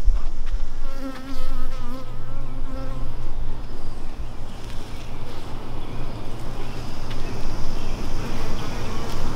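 Honeybees buzz loudly and continuously around an open hive at an apiary during queen replacement work; a dense, close swarm drone with a few individual bees whining past, no talk.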